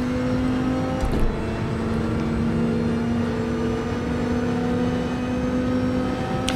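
Porsche 919 Hybrid prototype racing at Le Mans in Gran Turismo 7, a steady sustained engine drone with a brief shift-like bump early on, continuous and fairly loud with no talk.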